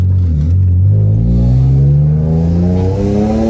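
A BMW E36 323i coupe engine accelerating: a loud, close, continuous growl that climbs steadily in pitch as the revs rise, sustained throughout with no speech over it.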